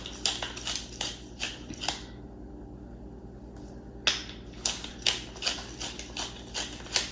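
Crushed black pepper shaken from a shaker onto a trimmed prime brisket before a cook on Ole Hickory pits, heard as a run of quick, dry, close rattling shakes in bursts, with a short quiet pause partway through.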